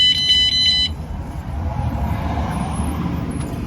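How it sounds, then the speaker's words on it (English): A quick burst of high electronic beeps from a VanGuardian van alarm arming, then a steady low engine-like rumble continues alone. "I'm just going to set the alarm again."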